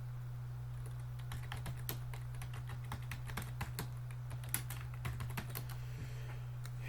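Rapid, uneven typing on a computer keyboard, with light key clicks close by over a steady low electrical hum and no talking.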